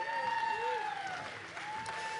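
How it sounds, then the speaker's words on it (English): Audience applause at a breast cancer fundraising event, a steady bed of clapping with a few whoops and a tonal, warbling sound running through it. "So I'd like you all to give yourselves a round of applause."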